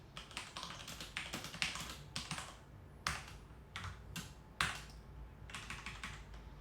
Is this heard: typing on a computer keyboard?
yes